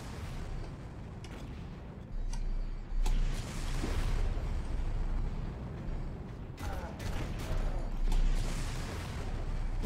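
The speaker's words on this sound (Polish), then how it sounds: "Zobaczymy, czy po granacie wybuchną." A grenade goes off in the first-person shooter Far Cry, heavy booming blasts with rumbling, crackling tails rolling on for several seconds amid ongoing game noise.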